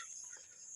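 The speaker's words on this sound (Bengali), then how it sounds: "ঝিঝি পোকার ডাক।" Crickets chirp in the evening in a village, a steady high-pitched trill that runs through the moment alone, faint and continuous with a soft background hiss.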